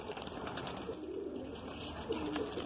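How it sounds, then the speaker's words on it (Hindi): A pure Malwai dubbas pigeon cooing softly and close, low throaty coos over a faint background hum, with no voices. "ये दुब्बास ये प्योर मलवाई कबूतर है"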